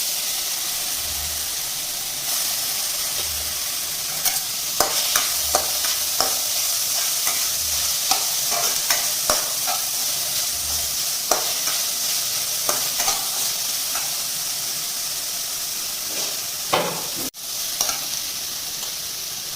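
Onions fry in a pan as tomatoes wait to go in, a steady close sizzle broken by frequent sharp scrapes and taps of a stirring utensil throughout.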